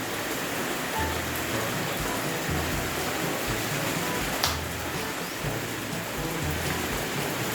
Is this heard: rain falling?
yes